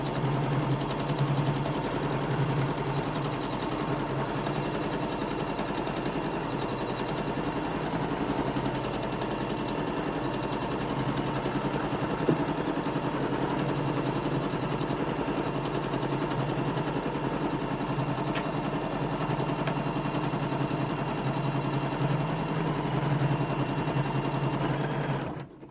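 An in-the-hoop embroidery machine stitches down fabric on a Peeping Tom quilt block, a steady continuous mechanical whir with rapid needle chatter running unbroken and fairly close for the whole stretch before stopping abruptly at the end.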